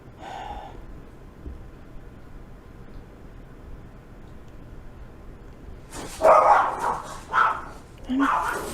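Dogs bark in sharp, loud bursts near the end after a quiet stretch, several close barks and yips in quick succession.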